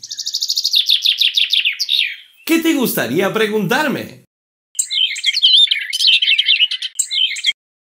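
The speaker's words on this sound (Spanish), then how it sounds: "Escuchen, ¿qué es eso? Debe ser el pajarito" A small bird chirps in a quick, repeated series of bright notes, then a person speaks briefly before the bird returns with a busy run of song.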